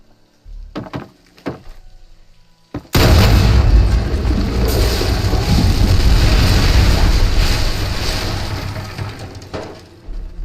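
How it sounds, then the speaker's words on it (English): An explosion in the video game Fallout New Vegas, a few brief thumps followed by a sudden loud booming blast that rumbles on for several seconds before fading. "It looks like an explosion should do the trick."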